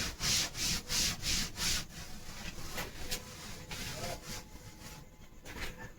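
A board is rubbed clean of a chemical formula in repeated quick back-and-forth strokes, close and scratchy. The strokes are rhythmic at first, then become softer and more scattered rubbing, with no talking.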